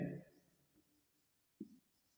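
Chalk or marker scratching on a board during an accounting lesson, a few faint strokes with thin high-pitched squeaks, close by, with brief bits of a voice.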